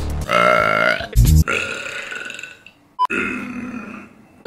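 Several loud, guttural burps from a woman sound up close, one drawn out and grunt-like, broken by brief pauses.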